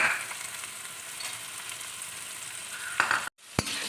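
Chopped carrots fry in a pan alongside beans and capsicum for street-style Indo-Chinese veg fried rice, giving a steady close hiss that briefly cuts out near the end before a single knock.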